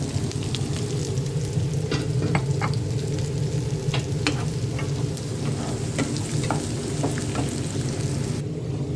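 An egg fries in olive oil in a pan, sizzling steadily throughout while being stirred, with faint scraping clicks of the utensil over the crackle; no one talks.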